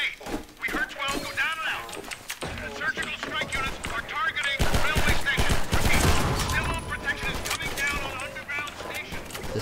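Rapid bursts of mounted machine gun fire from Half-Life 2 with the MMod modification, dense and loud in clusters, running throughout with other game noise and someone talking over it.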